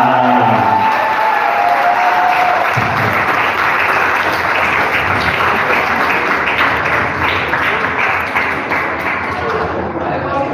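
Loud, sustained applause from an indoor crowd honouring the runner-up at a women's doubles badminton final, steady clapping filling the whole stretch with a little cheering mixed in.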